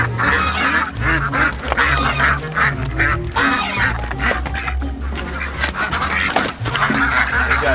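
A crowd of ducks in a breeding pen, males and hens together, keeps up a loud, continuous chorus of honking quacks, nearby and dense with no pauses, with no one speaking.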